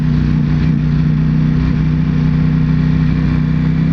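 Ducati Panigale V4S motorcycle engine running steadily at speed on country roads, a loud, continuous low drone with constant tone, heard close up with no talking.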